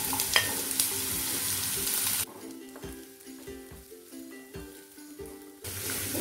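Onion, carrot and capsicum tossed in a wok over medium flame, the sizzle loud at first, then easing to a quieter crackle broken by repeated scraping strokes of a spatula before the hiss surges again.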